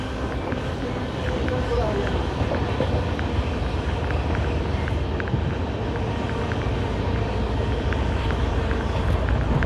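The 12482 Shri Ganganagar–Delhi Intercity, still on a non-electrified line in Haryana, runs along with a steady low rumble and rattling wagons heard from on board, loud and unbroken with faint clicks over the drone.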